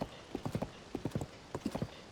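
The horse Epona trots in the video game The Legend of Zelda: Tears of the Kingdom, her hooves clip-clopping in crisp, evenly spaced groups of four beats, close and clear against a quiet background.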